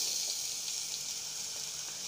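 Ginger garlic paste frying in oil with browned onions and garam masala, a steady close hiss of sizzling that holds evenly throughout with no voices.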